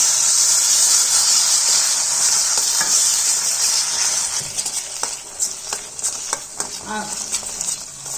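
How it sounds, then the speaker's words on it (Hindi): Ghee sizzling in Punjabi-style mustard greens saag, a loud continuous hiss and crackle that eases slightly, with stirring clatters toward the end. "तो मैंने तो क्या इसका घी निकाल दिया था, इसलिए इसमें घी डाल दिया।"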